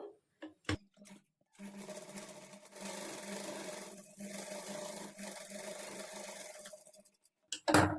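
A sewing machine stitches a folded two-inch cloth strip for a blouse waistband, its faint whirring hum running in several short bursts separated by brief pauses and small clicks.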